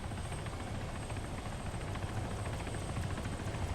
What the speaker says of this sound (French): Il y a un hélico À gauche, au-dessus de nous